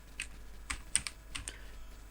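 Sparse keystrokes on a computer keyboard while creating a new file, a few separate taps and short clusters spread over two seconds, close and clear in a quiet room with no voices.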